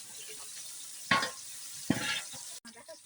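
Chili, bay leaf and cinnamon dropped into hot oil in a pan for a village picnic cook-out, giving two sharp bursts of sizzling over a low steady background hiss.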